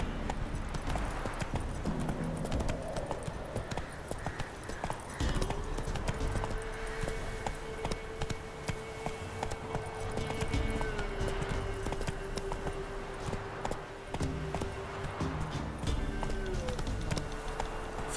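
Horse hooves clip-clop in a fast galloping rhythm throughout, a mount in The Witcher 3 video game, with a steady game soundtrack and a brief neigh-like tone layered over the continuous hoofbeats.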